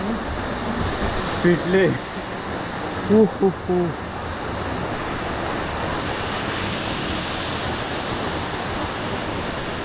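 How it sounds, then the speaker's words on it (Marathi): Kalu waterfall at Malshej Ghat roars as a steady, broad rush of falling water heard from close by, with a man's brief spoken words over it early on. "आपण पोचलोय कालू वॉटरफॉल जवळ आणि आपण चालू आहे आता त्याच्या खाली."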